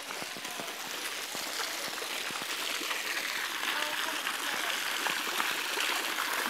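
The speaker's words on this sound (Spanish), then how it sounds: "Me encanta siempre la fuente de San Fernando, me encanta." Water splashes steadily in the San Fernando town fountain, a continuous close rushing and spattering that holds through the whole stretch.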